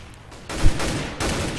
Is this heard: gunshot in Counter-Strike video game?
yes